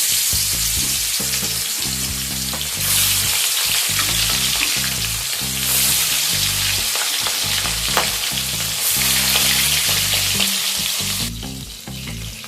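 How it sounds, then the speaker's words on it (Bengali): Pieces of boal fish fry in hot mustard oil in a kadai, a loud continuous sizzle close by with occasional surging crackle and faint stirring, no voices. "তেল ভালো মতো গরম হয়ে গেলে এবার মাছের পিসগুলো তেলেতে দিয়ে দিচ্ছি"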